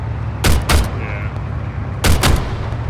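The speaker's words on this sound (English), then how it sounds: "got a lot of gunfire up ahead." Gunfire in the video game Arma 3: two quick pairs of loud, sharp shots, close by over a steady background hum, with no talking.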